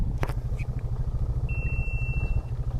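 A four-wheeler engine idling at a boat ramp with a steady, low, even chug close by and a short whine over part of it, with no voices.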